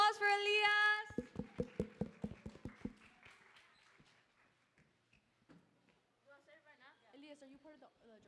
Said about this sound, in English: Round of applause for Elias.